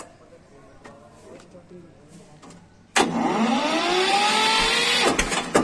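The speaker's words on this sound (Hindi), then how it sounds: "आयशर की दहाड़।" An Eicher tractor's starter cranks after a few seconds of background voices and faint knocks, then the engine catches with a sudden loud roar that holds steady and close.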